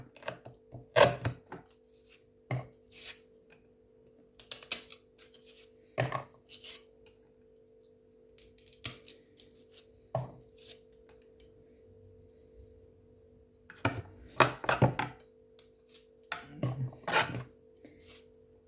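A knife chopping a drumstick (moringa pod) into small pieces on a board, sharp scattered clicks and knocks in irregular bursts separated by quiet pauses, close and dry, with a faint steady hum underneath.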